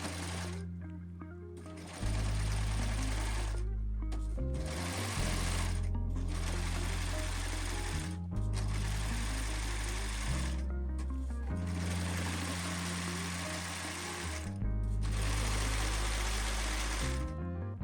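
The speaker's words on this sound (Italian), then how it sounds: "abbassiamo il piedino e iniziamo a cucire, senza fare i punti indietro perché con questo punto non si possono fare" A Pfaff Admire Air 6000 sewing machine stitches a t-shirt hem in several loud, steady runs of rapid needle strokes, separated by short pauses.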